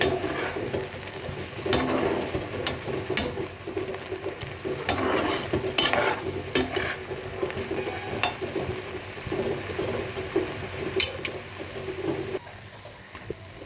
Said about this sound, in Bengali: নাড়তে হবে, না নিচে পড়ে যাওয়ার ভয় থাকে